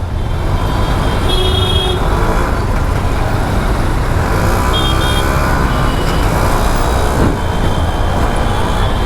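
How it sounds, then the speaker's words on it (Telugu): Motorbike riding in first gear through busy market traffic, with a constant loud wash of engines, wind and road noise and occasional horn toots from nearby vehicles. "ట్రాఫిక్లో అలా అలా అలా నడుపుకుంటూ పోవడమే"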